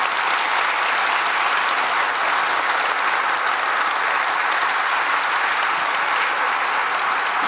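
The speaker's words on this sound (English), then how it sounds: "So that deserves a round of applause in itself." Loud, dense applause from a crowd at a Rotary Young Citizen awards ceremony at a primary school, a continuous wash of many hands clapping evenly throughout with no pauses or talk.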